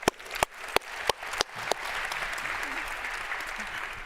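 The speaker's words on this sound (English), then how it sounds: "Let's give a hand of applause for that." A few sharp individual claps open, then the audience at a conference panel joins in a steady wash of applause that carries on to the end, with a voice briefly heard at the start.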